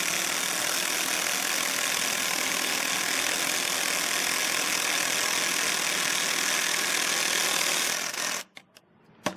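Dewalt 12V and Milwaukee M12 impact drivers running together on low mode, a continuous loud buzzing whir held for about eight seconds, then cutting off abruptly with a few sharp clicks at the end.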